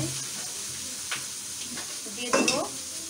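Pabda fish frying in oil in a pan, a steady close sizzle with a couple of brief stirring or scraping bursts from the utensil near the end.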